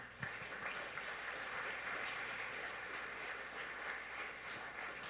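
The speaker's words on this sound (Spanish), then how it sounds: "Denle un aplauso al Señor." Applause from a church congregation praising the Lord, a steady, dense wash of clapping that runs unbroken from start to finish at moderate distance, with no voices standing out.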